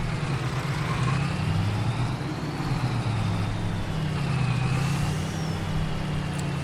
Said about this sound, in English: I'll go get the tractor and sprayer going